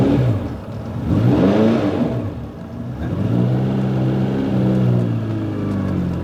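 A TVR Cerbera engine revs eagerly in two rising, falling sweeps heard from inside the car, the second swell settling into a steady, fairly loud drone.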